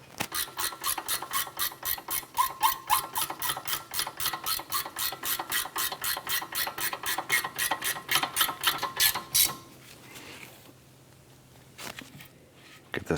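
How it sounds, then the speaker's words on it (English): A hand ratchet clicks in a long, rapid, steady series, snugging bolts during a rear brake replacement on a 2004-2008 Acura TL, close and clear, stopping after about nine seconds into quieter handling noise. "let's go ahead and snug those bolts down."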